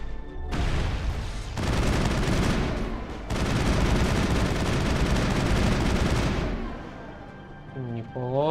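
Gunfire in the 2007 PC game Mass Effect 1: loud, dense bursts of shots and booms keep rolling almost without a break for about six seconds, then fade to a quieter tail with a short electronic warble.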